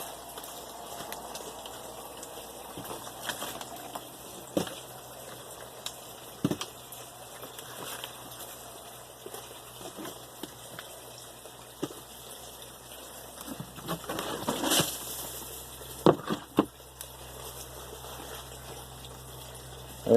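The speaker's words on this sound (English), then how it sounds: "So what I'm going to do right now is just dump the water." Water splashes and trickles as it is dumped out of a seedling tray, with a louder gush of pouring and spattering near the middle, then quieter dripping.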